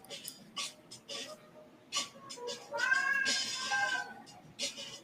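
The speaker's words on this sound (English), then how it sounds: "Cat is being loud." A cat meows loudly several times in a row, some calls drawn out and rising, close by over a quiet room background.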